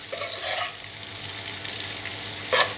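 Chopped onions sizzle loudly in a hot pan of oil, a dense steady crackle with stirring scrapes and a brief louder burst near the end.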